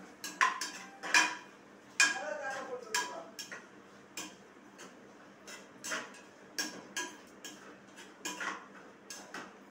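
Onions sautéing in a pan for coconut-milk tomato rice, stirred with a spoon that clinks and scrapes in quick, irregular taps, fairly quiet and close, with no talk over it.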